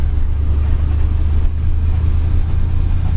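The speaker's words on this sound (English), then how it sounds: "One less obligatory burnout here." A 1964 Dodge Custom 880 spinning its wheels in a burnout on snow during a blizzard, a steady loud low engine rumble held close throughout, with no speech.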